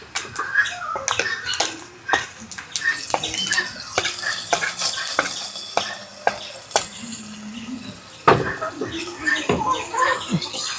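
A hot tempering of cashews and curry leaves is poured into a vegetable curry, giving a sizzling, bubbling hiss with scattered clinks and stirring knocks close by; no one speaks.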